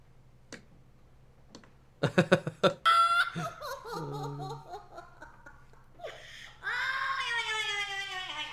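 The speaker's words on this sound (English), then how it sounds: "Oh, that was the bird making that noise." A pet bird gives a string of human-like chattering and laughing sounds after a few faint ticks, with a sustained higher warbling call at the end, close and fairly clear.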